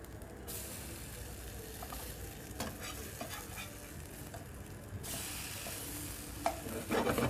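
Flipped rostis fry steadily in a hot pan, a continuous close sizzle and crackle that surges louder at one point and carries occasional faint clinks and scrapes of a utensil, with no talking.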